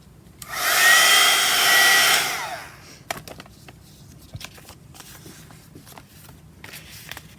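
A hair dryer runs on a craft project for about two seconds, a loud steady whoosh that starts and stops abruptly, followed by faint handling clatter and small taps.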